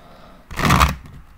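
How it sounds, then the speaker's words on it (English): A short burst of cards riffling together, a quick brisk flutter lasting under half a second, close by. "Two more shuffles."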